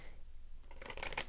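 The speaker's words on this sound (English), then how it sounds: "Let's shuffle just a little bit more." Tarot cards being shuffled, a faint stillness followed by a quick burst of crisp riffling flutters close by, with no talking.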